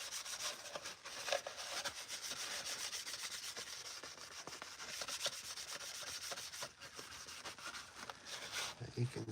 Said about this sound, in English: A little graphite rub here.